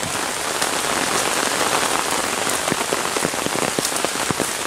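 Steady rain patters on a surface nearby, a dense continuous hiss with scattered heavier drops, no voices.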